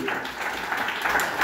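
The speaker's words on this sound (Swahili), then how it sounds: "Pe Yesu makofi ya heshima kama namtambulisha vilivyo" Congregation in a church service applauding in honour of Jesus, a steady wash of many hands clapping together at moderate loudness, continuous through the moment with no pauses.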